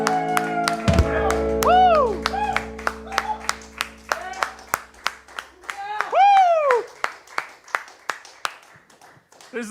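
A small audience at a concert claps for a performer in scattered, uneven bursts that thin out toward the end, mixed with lingering musical tones and voices.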